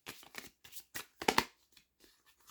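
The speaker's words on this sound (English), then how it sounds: "I think they want me to shuffle this one more time." A deck of cards being shuffled close up: several quick riffling bursts and soft slaps in a short irregular sequence, fading to faint rustles, with no talking.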